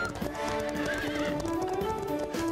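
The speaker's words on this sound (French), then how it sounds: "Où sont mes chevaux de course? Ils sont partis par là." Racehorses bolt off toward a track in a cartoon scene, hooves clip-clopping steadily under repeated loud neighs and whinnies, with a musical score running beneath throughout.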